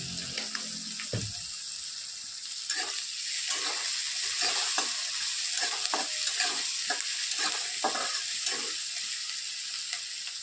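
Onion, half a tomato and a little salt sizzle in a pan for a dry spinach and moong dal dish, a steady frying hiss broken by repeated scraping stir strokes close by.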